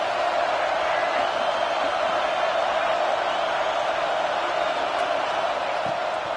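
A stadium crowd at a South Carolina versus Colorado college football game roars steadily and loudly throughout, a dense sustained wash of cheering with no break.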